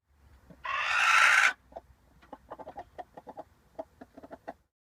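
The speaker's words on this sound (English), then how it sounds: "this may not be too surprising, but the sound is a chicken" A hen squawks loudly in one long harsh burst while laying eggs, then gives a run of short, irregular clucks, close and alone with no talk.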